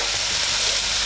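Chopped onion and garlic sautéing in a pan for a blender chicken pie filling, giving a steady, close sizzle of frying that runs evenly without pause.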